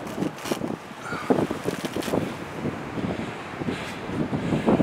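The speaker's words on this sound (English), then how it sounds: "the wind is blowing here" Gusty wind buffeting outdoors, a steady rushing roar with brief louder bursts, no voices present.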